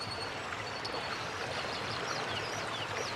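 A steady wash of flowing water from a stream runs continuously and evenly at moderate volume, with faint bird chirps over it and no voices.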